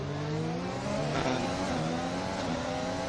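Formula-style race cars in a racing video game at an Italian round heading into the pit lane, their engines a loud continuous whine with pitch sweeping up and down as they accelerate, with no talking.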